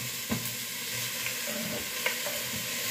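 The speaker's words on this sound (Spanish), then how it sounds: "vamos a poner un ratito nomás para que rehogue un poco las verduras" Vegetables for a vegetarian peanut soup sauté in a pan, giving a soft, steady sizzle with a few light stirring scrapes and knocks, no talking.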